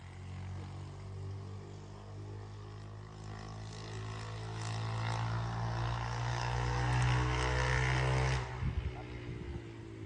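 A Makro 200-5 excavator engine, parked for four years, drones steadily and then revs up into a louder, rougher roar before easing back down, heard close with no talking.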